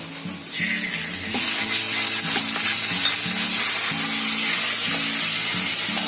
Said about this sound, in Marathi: आता थोडी जागा करायची मध्ये आणि त्याच्यामध्ये आलं लसूणची पेस्ट टाकायची.